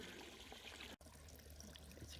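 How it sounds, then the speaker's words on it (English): Small garden waterfall trickling down into a wildlife pond, a soft, steady splash and dribble of water heard close, with a brief dropout near the middle. "It creates a nice little waterfall down into the wildlife pond."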